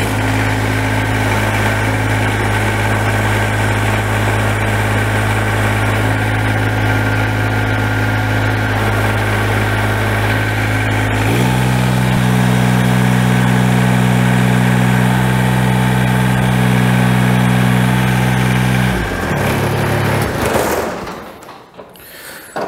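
A Kubota BX tractor engine idles loudly and close, with the pitch shifting partway through, then holding steady before the sound drops away at the end.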